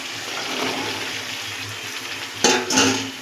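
Kabuli chickpeas being stirred in a pan for chana masala, with a steady soft sizzle and scraping throughout and two louder clattering stirs near the end.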